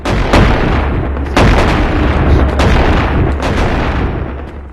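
Shotgun blasts in the video game Animal Company: several loud, sharp booms spaced unevenly, each with a short ringing tail over a constant low rumble.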